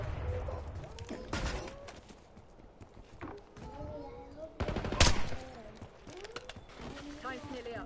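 Gunfire in Call of Duty Black Ops 6 Warzone resurgence match, a few sharp bursts of shots at moderate distance, the loudest cracking near the middle, amid game ambience.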